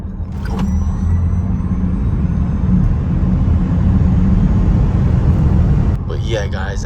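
A Tesla Model S Plaid accelerating hard from a 50 mph roll, a steady loud low rumble of road and wind noise building inside the cabin, with a brief sharp click near the start and a shift at the end.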